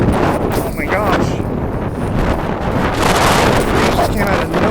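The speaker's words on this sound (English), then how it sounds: "It's almost always windy here" Strong outdoor wind buffets the microphone in a steady, roaring rush throughout, with a voice speaking faintly beneath the noise.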